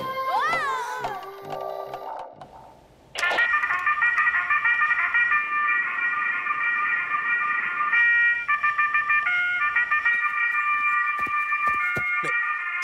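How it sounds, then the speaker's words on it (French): An alarm clock in a French cartoon goes off with a loud, continuous electronic ringing that holds steady for several seconds after a brief burst of cartoonish sliding tones. "C'est mon réveil."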